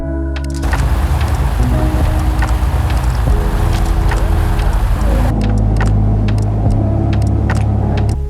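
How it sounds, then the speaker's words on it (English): A short ferry crossing to an island near Hiroshima, Japan: a loud, steady engine rumble with wash and hiss from water and wind, and a change in tone partway through. "When it was time to board, we hopped on the ferry."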